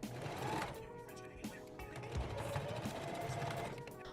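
A sewing machine stitches denim strips together with a busy mechanical whir close by, running steadily with brief stops and shifts, no talking over it.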